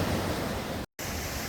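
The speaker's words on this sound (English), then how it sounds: "a cool, cascading creek flowing through slots carved by millions of years of runoff" A cool, cascading creek running through rock slots near Chilnualna Falls in Yosemite makes a steady, soft wash of flowing water with one momentary dropout, and no voices.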